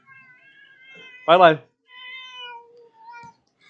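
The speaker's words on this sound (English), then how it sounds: "Sorry, my cat's being very naughty right now." A cat gives one loud, close meow in the middle of a pause, with quiet background tones before and after it. A person speaks briefly around it.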